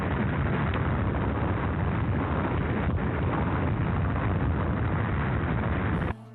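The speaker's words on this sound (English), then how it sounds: "the city was leveled by the most powerful bomb the world had ever seen" Atomic bomb explosion effect depicting the 1945 Hiroshima blast: a loud, sustained roaring rumble that holds steady for about six seconds, then cuts off abruptly.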